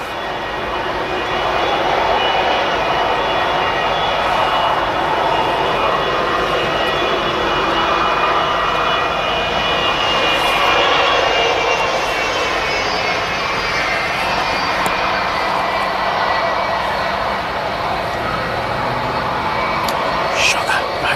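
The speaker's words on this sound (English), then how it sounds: "It's nice when I see a plane that's still flying that's actually older than me." An old passenger airliner flies past at Manchester Airport, its engine roar sustained and loud for around twenty seconds, with people speaking quietly beneath it.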